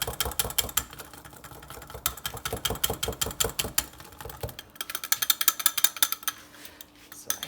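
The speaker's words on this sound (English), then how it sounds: "I will whisk it up." A whisk beats flour mixture in a bowl for onion soup, with a fast, steady run of close, loud metallic clicks and taps that stops partway and then comes back in quicker bursts.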